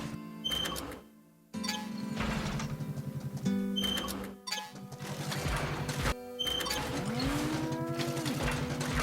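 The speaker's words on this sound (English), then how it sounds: "was that a cow I just heard?" A cow moos under steady game background music with rhythmic tones in the video game Sand Land; the low lowing call sits in the mix at moderate level, with no speech.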